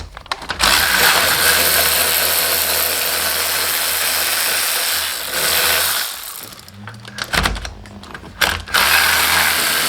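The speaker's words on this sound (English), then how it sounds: "go ahead and take your bolts off here" Ratchet wrench removing bolts during a suspension lowering job on an Audi RS3, a long steady run of dense rapid clicking that is loud and close, briefly pausing and resuming with choppier bursts near the end.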